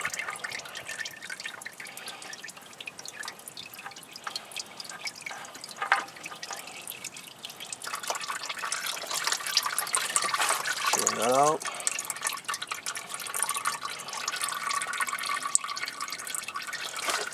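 Used motor oil drains from a 6th-generation Nissan Maxima during an oil change, a steady trickling and splashing stream heard close up with someone talking over parts of it.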